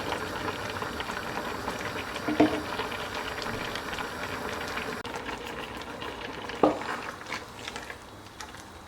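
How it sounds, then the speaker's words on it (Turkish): Tomatoes in a pot bubble at a steady simmer, a continuous soft gurgling with two brief louder pops, close by and with no talking. "Şimdi domatesimiz yavaş yavaş kaynamaya başladı."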